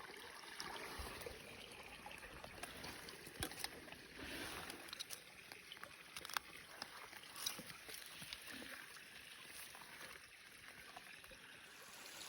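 Creek water flowing steadily beside a bank thick with holm oak scrub during a mushroom hunt, a continuous broad wash of splashing and trickling with brief rustles and handling noises on top.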